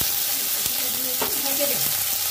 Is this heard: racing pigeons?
no